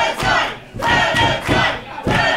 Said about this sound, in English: You can hear the crowd going wild for Clementine.